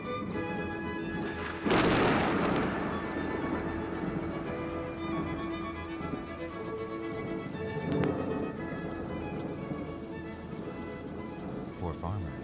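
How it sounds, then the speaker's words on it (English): Steady light rain patters while a sudden thunderclap booms near the start, followed by softer rumbling; a voice speaks over the scene. "The light rains awaken the young grass as thunder heralds the dawn of spring."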